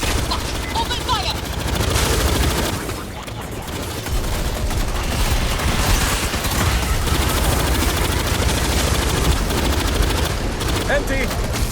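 Dense, continuous automatic gunfire from Aliens Fireteam Elite rattles loudly and without pause throughout, a thick barrage of rapid shots mixed with explosive bursts.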